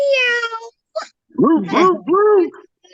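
Cat meows, a drawn-out harmonic call followed by a short chirp and then a quick run of three rising-and-falling meows, loud and close against silence.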